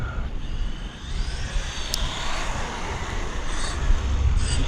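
An Eachine EAT04 metal-body brushless 4x4 RC desert buggy runs at full throttle outdoors, its motor giving a constant high-pitched whine over rough rolling noise, loud and sustained.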